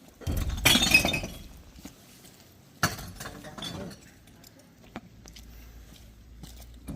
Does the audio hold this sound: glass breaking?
yes